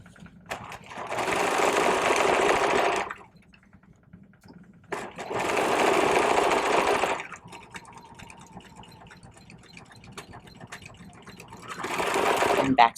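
A sewing machine back-stitching a seam runs in three bursts of rapid, whirring stitching separated by short pauses.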